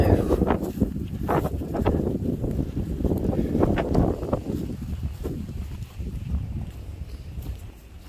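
Gusty wind buffets the microphone at an abandoned wine estate, a loud rumbling roar that swells and fades in bursts over several seconds, with scattered brief knocks and rustles.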